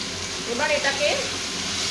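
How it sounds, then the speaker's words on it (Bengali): Potato and pumpkin pieces frying in a pan with salt and turmeric give a soft, steady sizzle, briefly stirred once or twice, with faint voices in the background. "আবার একটু নাড়াচাড়া করে দিচ্ছি"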